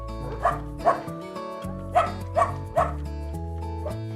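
Puppies bark and yip in quick repeated bursts, about six sharp yelps spaced over a few seconds, heard close up over a layer of background music.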